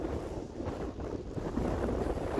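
Steady wind rushes across an outdoor RC airfield, a broad continuous buffeting close to the microphone that swells slightly toward the end, with no voices.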